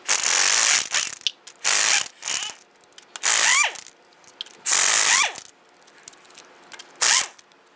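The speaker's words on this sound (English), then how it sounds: "Using our 7/8 socket, we're going to head loosen and remove our lug nuts." A 7/8 socket ratchet works lug nuts on a 2002-2008 Dodge Ram 1500 wheel in short bursts of rapid clicking, several close, sharp runs separated by brief pauses.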